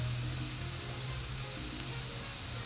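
Steak and onion sizzle in grease on a Blackstone 22-inch griddle, a steady close hiss of frying that runs unbroken with no talk.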